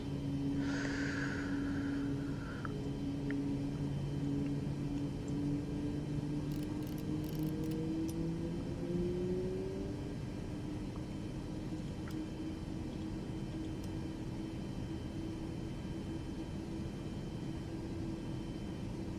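Right engine of a Boeing 737 MAX spooling up in Microsoft Flight Simulator 2024, a steady turbine whine rising in pitch over a constant low rumble, with a short beep early on.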